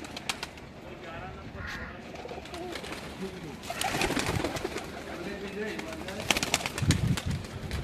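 Pigeons coo on a rooftop in a steady low murmur under outdoor noise, with scattered clicks and rustles and a louder burst of activity partway through.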